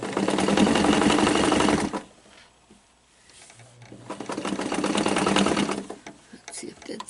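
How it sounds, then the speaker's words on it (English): A sewing machine set to zigzag runs close by, stitching a seam in fabric in two fast bursts. A short pause separates the bursts, and the second run tails off at the end. "I've already got my machine set to zigzag, so let's just go at it."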